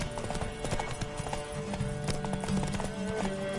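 Steady hoof clopping of a horse on a hard surface in the video game The Witcher 3: Wild Hunt, a quick repeating rhythm with a faint whinny-like tone and background music, close and clear.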